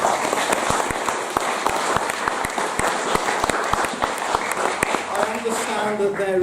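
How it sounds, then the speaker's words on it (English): An event audience gives brisk, close applause with sharp individual claps, while voices talk over the clapping. "please round of applause for TASOULA"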